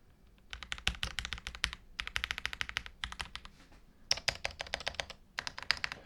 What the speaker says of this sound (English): really close to the keyboard so you guys can hear it